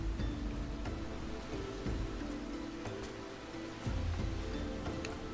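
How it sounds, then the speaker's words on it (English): Steady rain falling in a Final Fantasy XIV game scene, a soft continuous patter with faint scattered drops and low rumbling underneath, quiet and without speech. "I think it's raining."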